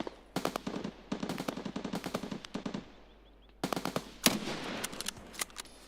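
Sniper rifle fire in a video game, a headshot: loud bursts of rapid gunfire in several clusters with brief gaps, close and dominant, no talking.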